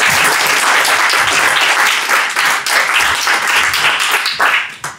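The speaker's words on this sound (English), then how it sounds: "So please give an applause for Epic Zero." A crowd applauds loudly and steadily, dense clapping filling the space for several seconds before starting to fade at the end.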